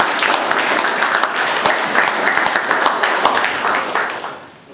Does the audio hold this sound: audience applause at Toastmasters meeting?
yes